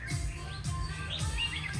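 A red-whiskered bulbul chirps in short, bright tweets repeated several times, fairly faint and close, with no voices.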